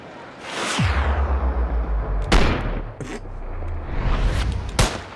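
Bolt-action sniper rifle shots in the video game Ski Sniper: two or three loud, booming reports spaced well apart, each with a long rolling echo, over a low steady rumble.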